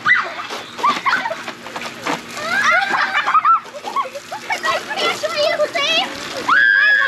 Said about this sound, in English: Now, I've got the hose,